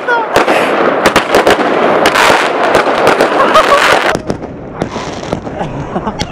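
Fireworks set off from a rooftop over Maidan in Kyiv: rapid sharp cracks and pops burst in dense succession over a crackling roar, then thin out into scattered bangs.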